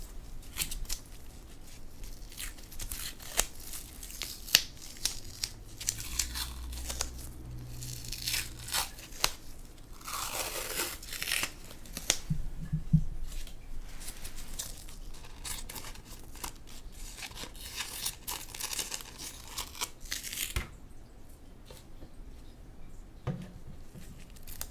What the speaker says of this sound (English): So let me prep that paper just a minute.